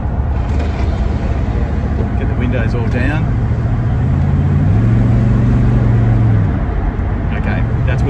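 A car cruises along an open road at about 80 km/h with the windows down, a steady loud rumble of engine, tyres and wind, while the driver talks over it.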